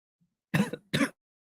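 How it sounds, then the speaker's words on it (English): Two short, dry coughs close to the microphone, then silence. "Sorry about that cough."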